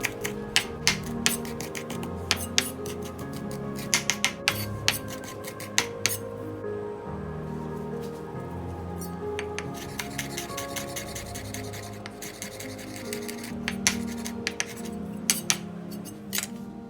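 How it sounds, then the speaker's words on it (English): A knife chops fresh parsley and basil on a cutting board in quick, steady, close taps that continue for a long stretch with only brief pauses. "The first step is to chop up our parsley and basil."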